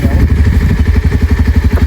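Motorcycle started and ridden off outdoors, a loud, close engine thumping in a steady rhythmic putter with clattering mechanical tones.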